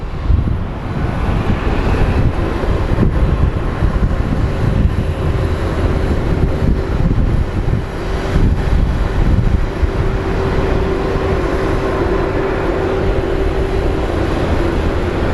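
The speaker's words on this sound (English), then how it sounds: "But there is the 767 operated by ABX, serving for DHL." An ABX Boeing 767 jet flying for DHL roars steadily at Phoenix Sky Harbor airport, a broad, continuous engine rumble with a faint whine sustained throughout, heard from some distance with no talking.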